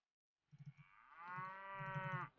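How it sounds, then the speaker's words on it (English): Cattle mooing in the Mount and Blade video game: a few short low grunts, then one long, drawn-out moo that swells loud and close, with more low grunting pulses underneath. "Drive the cattle onward."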